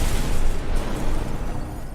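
Explosive gel detonating against walls in the video game Batman: Arkham Asylum, a dense, loud roaring blast of rumble and debris sustained throughout with no clear onset.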